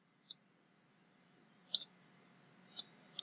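Computer keyboard keys tapped a few times, sparse isolated clicks, close and crisp, against a quiet background with no speech.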